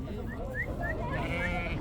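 Sheep bleating at the Kirkuk sheep market, several short bleats from nearby animals repeating over a busy low market murmur.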